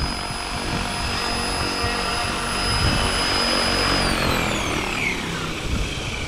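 An RC helicopter, a Puma, hovering at a 1500 RPM head speed in normal mode: a steady, loud rotor whine with a sustained high tone that drifts downward near the end as it settles, continuous and close.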